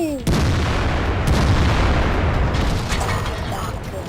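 A heavy IS-6 tank cannon blast in World of Tanks booms loudly right at the start, followed by a long rumbling tail and a second fainter shot, with a voice briefly over it.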